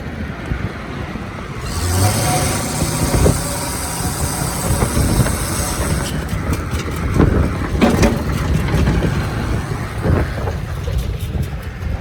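A rough, rumbling 400 V8 engine in a Chevy C30 dually truck runs steadily up close, with louder revving swells and clunks throughout.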